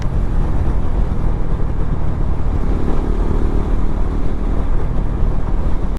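A motorcycle rides along a smooth road, its engine droning steadily and close under rushing wind noise, with no voices heard.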